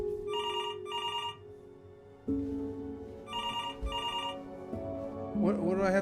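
An old-style telephone rings with a shrill electronic double trill, four bursts in two pairs, over low ambient music and tones in the video game Before Your Eyes.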